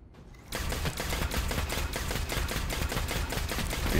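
Legendary sniper rifle shots in Destiny, during a Nightfall strike: after a brief lull, a rapid, evenly spaced stream of loud, sharp reports fires continuously and close, with no talking.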